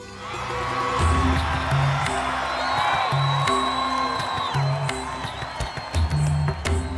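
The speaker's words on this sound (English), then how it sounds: "The crowd erupted in jubilation." Crowd breaking into cheers and whoops of jubilation, a dense wash of voices over a rhythmic musical backing, moderately loud.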